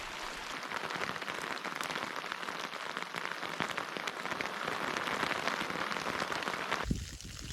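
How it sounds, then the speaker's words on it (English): Hail falling on a high mountain campsite in England, a dense continuous patter of hard pellets striking the surface nearby, steady and fairly loud throughout before ending abruptly. "Ooh la la, hail."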